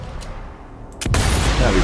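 A sniper rifle shot in Sniper Elite 4, timed under a masking noise: a sharp, loud crack halfway through, followed by a sustained roaring wash of background noise, with no talking.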